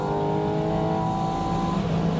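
A Porsche 718 Spyder RS flat-six engine holds a steady, fairly loud mechanical drone with a sustained harmonic whine, heard from inside the car for a couple of seconds without talk.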